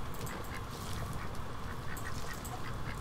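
Ducks quacking in the video game Little Inferno during its Duck Season item, a busy stream of quacks and honks over a constant noisy bed, no talking.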